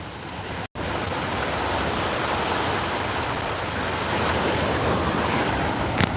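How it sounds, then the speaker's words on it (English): Storm waves crash and surge steadily in New York harbor during Tropical Storm Fay, a loud dense roar with wind buffeting the microphone and a brief dropout near the start. "Just love the sounds of the crashing waves."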